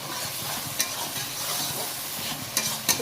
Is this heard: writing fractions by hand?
no